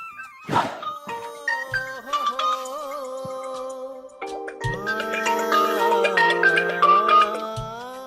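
A mobile phone rings with a melodic tune, each note clear and close, after a brief thump at the start. The call comes from a sister.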